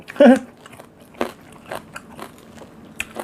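A loud crunchy bite into crispy fried pork, followed by quieter crackly chewing and a few soft crunches up close.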